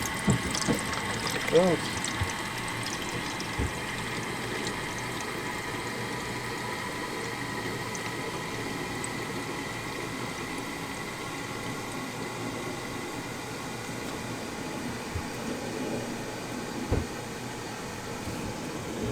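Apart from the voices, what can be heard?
water running through three-stage water filter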